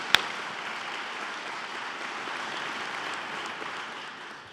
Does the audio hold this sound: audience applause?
yes